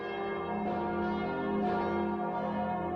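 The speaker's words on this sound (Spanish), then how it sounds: "Las campanas de las iglesias marcaban el ritmo de la vida de los parisinos." Several church bells ring continuously, their rich overlapping tones blending into a steady, resonant peal at moderate distance.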